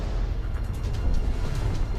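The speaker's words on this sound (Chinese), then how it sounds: "这炮声是从哪个方向来的？" Distant artillery fire in a Korean War battle scene of a Chinese war film, a continuous low rumbling barrage of booms rolling steadily throughout without speech.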